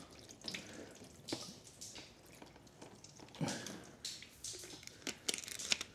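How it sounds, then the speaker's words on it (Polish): Water splashes and trickles unevenly as it is poured into a mixture for headlight restoration, with small gurgles and crackly bursts, fairly quiet and close. "Wleję to wodą."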